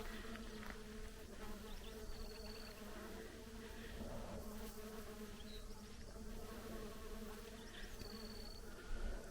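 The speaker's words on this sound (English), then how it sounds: "So the bees are out in full, you guys. Tons of bees." Ground bees buzzing in large numbers along a desert canyon hiking trail in Arizona, a steady dense drone of many insects close around, continuous for the whole stretch with no talking.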